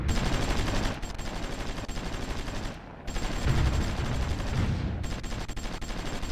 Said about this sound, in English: They got some artillery bombarding us from there.